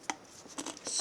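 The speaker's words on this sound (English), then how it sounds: "So first I'm going to cut in through the hole," Scissors cut into a tin can to make earrings, a few short, close metallic snips and scrapes in quick succession.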